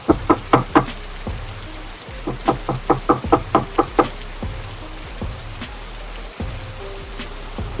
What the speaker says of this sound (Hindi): अपने दरवाजे पर खटखटाने की आवाज सुनाई देती है